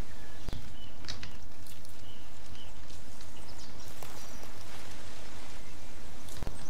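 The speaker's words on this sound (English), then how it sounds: "sound of the animals and the trees and the wind." Steady forest ambience from the video game The Forest, with a soft wash of wind and rustling trees, scattered faint animal calls, and a few sharp clicks or knocks standing out.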